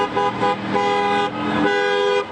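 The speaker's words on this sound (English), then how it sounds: "Supporters honked" Car horns honk repeatedly in overlapping blasts from election supporters driving across town, loud and close, with steady engine noise beneath.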